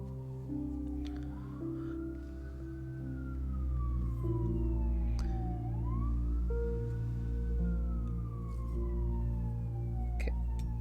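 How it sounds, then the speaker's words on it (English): Emergency vehicle siren wailing in rising and falling sweeps as it passes nearby, steady and fairly loud throughout over a low rumble of traffic, with no talking. "Sorry for the sirens also."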